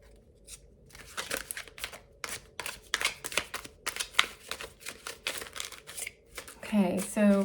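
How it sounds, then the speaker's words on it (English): Tarot cards being shuffled by hand in a quiet room, a run of crisp riffling and snapping bursts repeated close up, with a brief voice near the end. "for each of these 5 face cards, I'm going to shuffle twice and take the card off the top"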